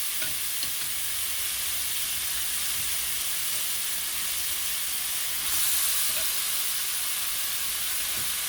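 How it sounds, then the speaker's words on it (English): Goat meat frying in a pot on medium-high heat for a goat curry, a steady dense hiss and sizzle with faint stirring clicks and a brief louder burst of steam midway; no talking. "it's always a whole bunch of meat going in. I have the heat on medium-high"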